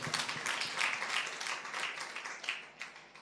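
A church thanksgiving congregation claps together in sustained, dense applause that carries through and tapers slightly toward the end.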